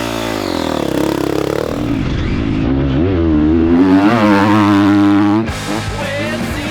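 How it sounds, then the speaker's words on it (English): A race motorcycle at speed on a circuit during a fast lap, engine screaming and rising through the revs, dipping briefly on a shift before climbing again, loud and continuous with wind roar. "on his fast lap on board his own race bike"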